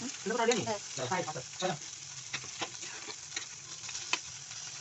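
Fish frying in a pan on a home stove makes a soft, crackling sizzle with scattered sharp pops and ticks, while a voice speaks intermittently over it.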